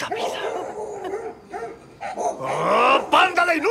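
Several dogs bark, yip and whimper at a house, their agitated calls overlapping with a shouting voice throughout.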